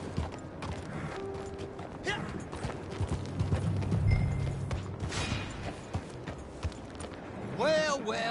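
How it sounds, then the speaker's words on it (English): Horse hooves clop unevenly in Red Dead Redemption 2 among creaking tack and mechanical clatter, with game characters talking over them and a horse whinnying near the end. "Get that horse hidden away, Clive, and ready to move out"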